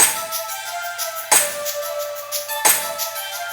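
A shaker in an African hip-hop beat gives a few bright, hissy swishes at a slow, even pace over a sustained synth tone, moderately loud with no voices.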